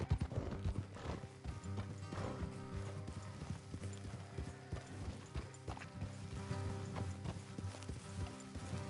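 Horses' hooves clip-clopping steadily along a road in the video game Red Dead Redemption 2, several horses trotting together with continuous overlapping hoofbeats, moderately close, under faint game background sound.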